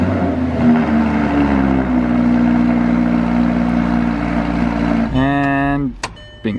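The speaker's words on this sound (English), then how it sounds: "So that was the last startup, completely stock exhaust." A salvage Audi R8 V10 with completely stock exhaust runs loud and steady for about five seconds, then revs briefly and cuts off, with a voice speaking over the engine.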